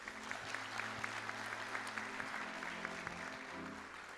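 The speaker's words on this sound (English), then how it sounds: "Can we give him a round of applause?" Audience applause for a volunteer at the Big Lake Spud Fest coronation, a fairly faint, steady wash of clapping that holds for the whole stretch with a low hum underneath.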